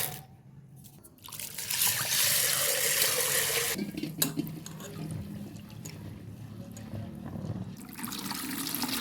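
Sago pearls are washed in a wide pot: running water pours loudly for a couple of seconds, then sloshing, swirling and trickling splashes follow close by as the grains are stirred and rinsed.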